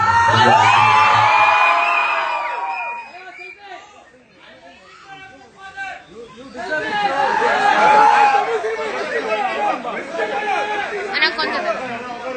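An audience at a promotional event for the Tamil film Bison whoops, yells and cheers loudly. The noise fades to a lull and then swells again into boisterous crowd noise and chatter.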